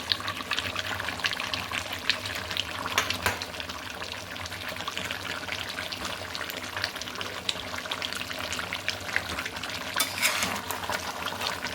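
Potatoes and chicken liver go into a hot frying pan on a raised flame, giving a continuous hissing sizzle mixed with stirring and shuffling, moderately loud and close, with no talking.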